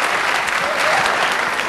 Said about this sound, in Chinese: 掌声给他鼓励